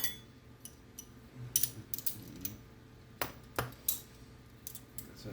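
A socket wrench ratchets an engine head stud out, giving close, sharp clusters of metallic clicks in short bursts with quiet gaps between them and no speech.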